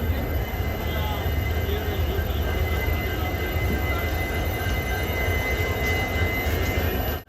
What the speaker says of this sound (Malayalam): ഇവിടെ ഒരു ലോക്കോമോട്ടീവ് ഒരു ട്രെയിൻ ഉണ്ട് കേട്ടോ ഇവിടെ.